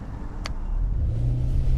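A 2023 Subaru Legacy Limited with the 2.5 Boxer engine drives along with a low, steady engine drone that deepens and swells as it pulls, heard from the cabin with a brief click near the start.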